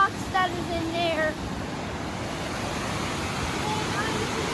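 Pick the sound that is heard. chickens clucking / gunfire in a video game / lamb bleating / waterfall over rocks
waterfall over rocks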